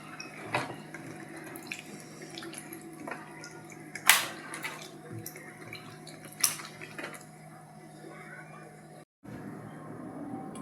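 Warm water poured over mushrooms in a bowl to wash off dirt, a quiet running trickle with a few splashes and clinks, close by, ending in a brief cutoff before the flow resumes.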